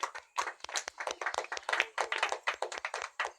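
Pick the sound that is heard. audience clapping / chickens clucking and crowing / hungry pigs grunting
audience clapping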